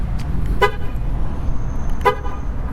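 A 2006 Mercury Grand Marquis LS gives two short horn chirps when locked with the key fob, brief bright toots spaced about a second and a half apart over low outdoor rumble.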